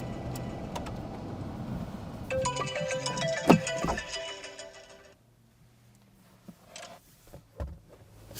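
A mobile phone ringtone sounds inside a car during a driving test, a repeating bright electronic pattern lasting a few seconds before stopping, followed by quieter clicks and cabin noise.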